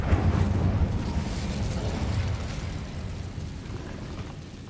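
A fire spell from Hogwarts Legacy bursts out with a loud, rushing roar and crackling rumble, strongest at the start and gradually tapering away.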